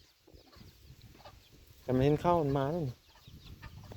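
A chicken gives one loud, drawn-out clucking call lasting about a second, close to the recorder and standing out over a quiet rural background, with people talking softly before and after.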